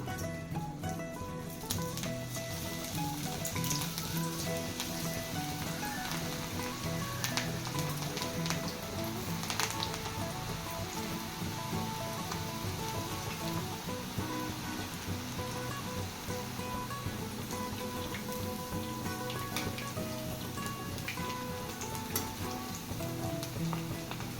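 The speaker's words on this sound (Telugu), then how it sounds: "ఆయిల్లో డీప్ ఫ్రై చేసుకుంటున్నాను" Pakoda batter deep frying in hot oil, a dense steady sizzle with crackling pops running continuously at close range, without speech.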